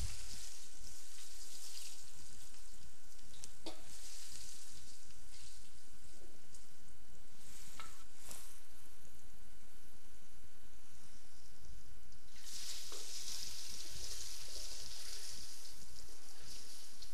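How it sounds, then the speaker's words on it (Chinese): Green peppers poured into hot oil for a quick fry while making sweet and sour pork ribs, giving a steady broadband sizzle and crackle throughout, with brief louder spits and a fiercer burst of hissing toward the end. "把青椒倒入热油中，稍微过油"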